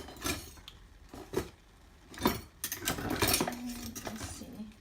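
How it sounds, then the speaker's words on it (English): Whisk scraping and clinking against a pot as it stirs flaxseed gel being heated on the stove, a few separate sharp strokes followed by a busier stretch of rapid stirring, close up and fairly faint. "So now I'm going to whisk it until it starts to boil and thicken."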